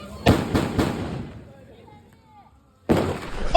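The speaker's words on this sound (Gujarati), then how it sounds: "તો બોમ્બ ને અમે સળગાવી દીધો તો સળગાય।" A Diwali firecracker bomb going off outdoors: three loud, sharp bangs in quick succession, then a quieter stretch with fading crackle, and another loud burst of blasts at the end.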